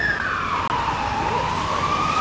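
A siren wails with a long, sliding tone that falls in pitch, loud and steady against a background of traffic noise in New York City.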